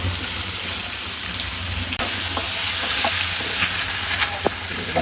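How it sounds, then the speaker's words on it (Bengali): Water goes into a hot pan of spice-fried eggs and dried ribbonfish to make curry gravy. The result is a loud, dense, rain-like sizzle and hiss that holds steady from start to finish, with a few faint utensil ticks and no talking. "এখন ঝোলের জন্য পানি দিয়ে দেবো"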